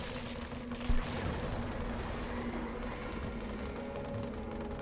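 A Grizzly tank in the Halo Wars strategy game fires amid a busy battle, one sharp boom standing out near the start over a dense, steady wash of gunfire and rumbling engines.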